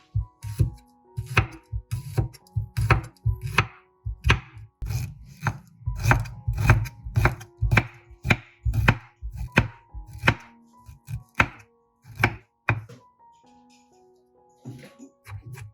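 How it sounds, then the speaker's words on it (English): A knife chops through spoiled, withered ginger on a cutting board, cutting it into thin slices with a steady run of sharp, close thunks that pause briefly and then resume. "First, we cut all the spoiled ginger in the house into thin slices."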